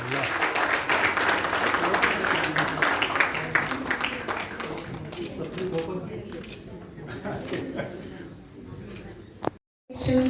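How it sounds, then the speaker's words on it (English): An audience at a direct selling convention gives a big round of applause, the clapping dense at first, then thinning and fading out before a brief silence near the end. "A big round of applause"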